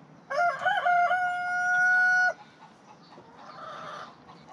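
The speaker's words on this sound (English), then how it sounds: "The chicken says hello." A chicken rooster in a backyard coop crows one loud, long cock-a-doodle-doo close by, followed by softer clucking.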